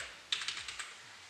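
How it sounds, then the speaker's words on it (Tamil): A password is typed on a computer keyboard during a desktop PC setup with a Zebronics monitor: six or seven quick, light key taps close by, alone in a quiet room. "கீபோர்டை யூஸ் பண்ணி நான் பாஸ்வேர்டு என்டர் பண்ணுறேன்."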